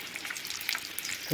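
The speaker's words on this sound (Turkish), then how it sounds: "puf puf kızartmaya devam ediyoruz" Hot oil sizzling and crackling steadily as çiğ börek pastries fry, close up, with a brief clink near the end.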